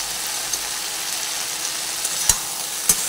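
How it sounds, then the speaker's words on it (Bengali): Okra and potatoes being stirred with Kashmiri chili powder in a frying pan, a steady close sizzle with a few sharp scrapes of the spoon, no talking. "কালারের জন্য পুরো কাশ্মীরি লঙ্কার গুঁড়োটাই ভালোভাবে ঢ্যাঁড়স আর আলুর মধ্যে মিশিয়ে দিচ্ছি"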